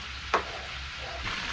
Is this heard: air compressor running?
no